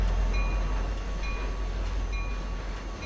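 An intermodal freight train rolls along in the train simulator Trainz, a steady low rumble with a droning engine and faint high metallic tones, continuous and unchanging throughout.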